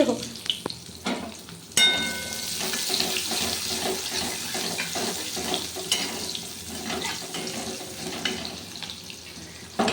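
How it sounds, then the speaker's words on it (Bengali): Chopped onion and grated ginger sizzle steadily in a hot pan for a quick home-cooked fish curry, a continuous close frying hiss with occasional stirring clatter and no voices. "আদা গ্রেট করা আদা আর পেঁয়াজটা ভেজে নিচ্ছি"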